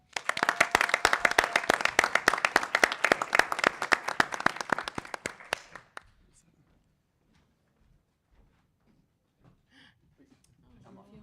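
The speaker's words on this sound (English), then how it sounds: "Clap it up for them." Audience clapping for panelists at an annual panel event, rapid dense claps for about six seconds that stop abruptly, followed by near silence with faint distant voices and small sounds.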